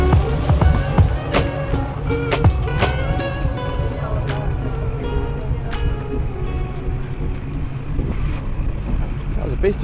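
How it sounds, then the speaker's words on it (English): A fast boat crosses open water between islands off Indonesia, a continuous engine drone mixed with wind buffeting the microphone and the slap and rush of water, loud and close, with talk heard at times. "That was a beast of a boat."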